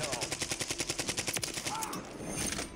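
A Kastov 545 rifle in Warzone 3 fires one steady rapid burst of about twenty evenly spaced, loud, close shots, then trails off into game ambience with a voice briefly heard.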